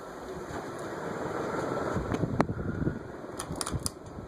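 A Carib 36-inch ceiling fan with a cast iron motor runs on its low setting, giving a steady close whir with a few light clicks and knocks near the end.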